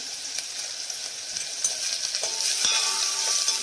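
Onion and garlic sizzle steadily in a hot pan with mustard seeds, cumin and asafoetida, a continuous crackling hiss with occasional light clinks, growing slightly louder toward the end.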